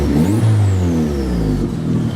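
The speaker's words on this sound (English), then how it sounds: "when you romp on it, like you get on the gas, it sounds good" A car engine revs hard through an aftermarket exhaust with a resonator, muffler and new tip, rising loudly to a strong mid-pitched roar and then easing off, heard up close with no talking.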